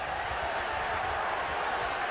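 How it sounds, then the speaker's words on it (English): A large stadium crowd at the 1988 Rugby League World Cup Final between New Zealand and Australia keeps up a steady, distant roar for the whole stretch, with faint speech mixed in. "And listen to the crowd."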